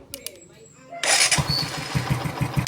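A motorcycle engine cranks on a repaired starter, catches abruptly and settles into a loud, rhythmic idle close by, with talk over it.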